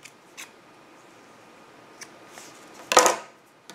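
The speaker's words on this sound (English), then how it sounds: "And then cut the loose yarn end." Scissors snip off a loose yarn end on a crocheted dragon toy, one short crisp cut standing out clearly near the end after quiet handling rustles.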